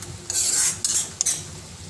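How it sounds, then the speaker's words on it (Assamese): A spoon scrapes through a sweet mixture in a pan in three brisk strokes, the second and third quick and close together, over a faint background hiss. "এইখিনি ভালকৈ লৰাই ল'ম"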